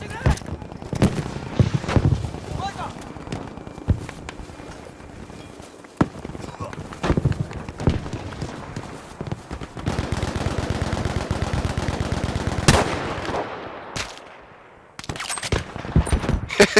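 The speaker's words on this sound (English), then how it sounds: "We're like shooting at each other." Gunfire exchange in Battlefield V's War in the Pacific, with rapid machine-gun bursts, single sharp rifle shots and running footsteps layered throughout, loud and close, while a player talks over it.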